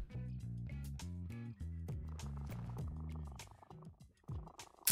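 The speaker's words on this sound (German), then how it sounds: "man kann halt mit seiner Katze interagieren" A cat purrs in the video game No More Heroes, a close rhythmic rumbling purr with regular repeating pulses, fairly quiet, with no talk over it.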